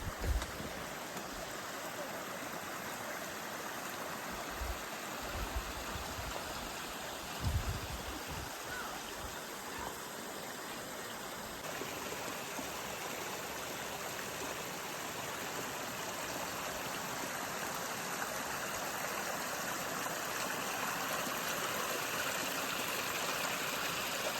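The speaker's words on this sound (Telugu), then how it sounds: "ఆ వాటర్ స్ట్రీమ్స్ చూపిస్తాను, నేనేం మాట్లాడను, ఎంజాయ్ చేయండి ఆ పీస్ని, ఆ కామ్నెస్" Forest streams rush in a steady, broad wash of flowing water along a jungle trek trail, continuous and close, with a few brief thumps near the start and no talking.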